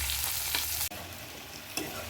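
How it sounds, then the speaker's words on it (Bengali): A fish head fries in a pan of hot oil at home, a steady close sizzle running throughout with a brief dip near the middle and a small crackling burst toward the end. "এখানে মাছ ভাজা, মাথাটা এখানে ভাজা হচ্ছে"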